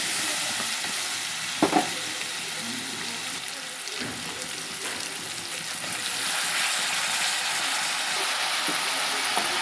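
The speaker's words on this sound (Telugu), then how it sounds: "ఇప్పుడు వంకాయ ముక్కలు వేసేస్తాను." Brinjal pieces frying in a pan of hot rice seasoned with turmeric, giving a steady, close sizzle with soft clatters around the two- and four-second marks, and no voices.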